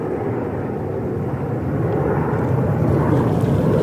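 Airplanes pass overhead at a golf course, a broad steady roar of jet noise swelling slightly louder toward the end, continuous and without talk.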